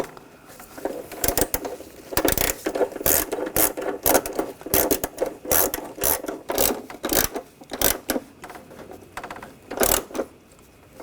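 A ratchet tightens bolts on the 3.7L engine of a 2004–2012 Chevrolet Colorado during intake manifold gasket work, producing close, rapid bursts of clicking in uneven strokes with short pauses between them.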